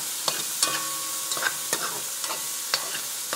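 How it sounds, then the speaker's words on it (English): Peppers sautéing in a pot for Haitian djon-djon spaghetti are stirred with a utensil, giving sharp scraping clacks at irregular intervals over a steady soft sizzle, close by and with no speech. "but let me stir these up just a little bit."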